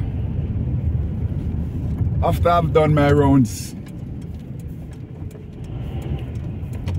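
Heavy road traffic rumbles at a busy roundabout on Dallow Road in Luton, UK, a constant near engine drone, with someone talking briefly over it partway through.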